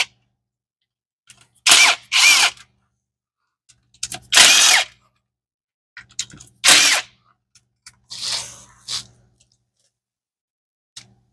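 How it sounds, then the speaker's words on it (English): A power tool spins bolts out of the transmission pan on a Turbo 460 Mustang. Four separate short whirring bursts come up close, with quiet gaps and faint clicks between them, and there is no speech. "I'm going to go ahead and start popping bolts out."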